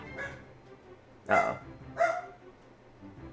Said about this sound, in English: You guys hear that? That's the dog.